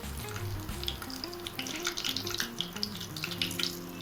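Whole cumin, two dried red chilies and a bay leaf sizzle in hot oil with a steady, close crackling hiss throughout, over a faint low tonal background.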